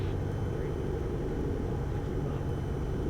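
A light airplane on final approach into a long runway with a left crosswind, its engine a steady, loud low drone filling the cockpit throughout the flare, with no distinct touchdown.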